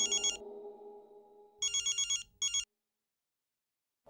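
A telephone bell rings in short electronic bursts, two rings then a shorter third, fairly close and clear, following a low sustained tone, then falling silent.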